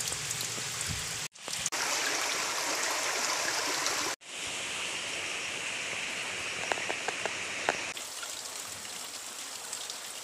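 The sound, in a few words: flowing creek water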